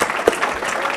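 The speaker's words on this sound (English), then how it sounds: "A round of applause for each of them here," Brief burst of audience clapping for city officials at a state of the city address, a short dense patter of hands at moderate level with one sharper clap standing out.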